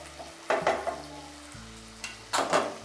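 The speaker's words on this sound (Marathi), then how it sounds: "मध्यम गॅस ठेवते आणि 5 मिनिटांसाठी हे बटाटे व्यवस्थित मऊ होईपर्यंत शिजवून घ्यायचे आहे" Raw potato pieces fry in a pan over a medium gas flame, crackling and sizzling steadily while a few stirring scrapes and clinks rise in short bursts.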